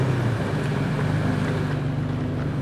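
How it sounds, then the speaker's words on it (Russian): A red Ford off-road vehicle revs its engine while crawling over rocks on Lippincott Pass in Death Valley, California, giving a steady, loud, low engine drone mixed with wind noise and no talking. "И следом за ним наши друзья на красном форде. Вот они газуют."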